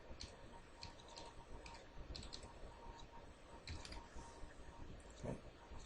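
Soft, quiet typing on a computer keyboard, a steady patter of small key clicks with a few louder taps, close up against a faint background hum.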